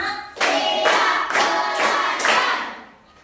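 A room of students clapping together in a classroom clap game, five strong, regularly spaced group claps of many hands, the last one fading away, with no voices over them.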